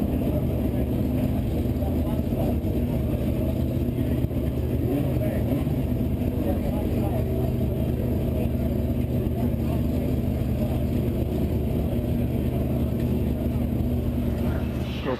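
A 1979 Porsche 935 race car engine runs steadily at a constant, loud, droning idle throughout, with no gaps, recorded up close at a racing event.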